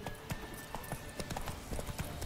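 A horse gallops in The Witcher 3 video game, its hooves clip-clopping in a steady rapid rhythm against a dense background of game sound.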